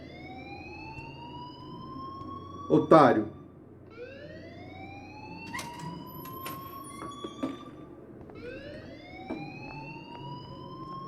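A school alarm rings in the video game Life Is Strange, heard as repeated rising electronic wails at moderate level, with a voice breaking in briefly near the start.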